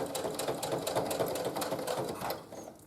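A sewing machine stitches binding onto a quilted table runner, its needle running in a steady, rapid mechanical chatter close up, then easing off near the end.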